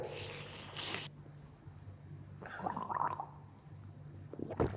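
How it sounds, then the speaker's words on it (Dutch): A person gargles a sip of drink during a party guessing game; a brief bubbling gurgle sounds fairly quietly in the middle of the clip, after a short rustling burst at the start. "Ik wil even lekker gorgel."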